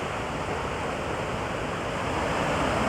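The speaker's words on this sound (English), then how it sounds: "there's definitely a lot more water flowing through now" Floodwater rushing through a swamped area, a steady broadband roar of flowing water heard close and unbroken for a few seconds, with no voices over it.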